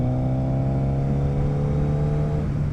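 A motorcycle accelerates hard with a loud, steady engine drone, its harmonics climbing as revs build, close and continuous throughout with no talking.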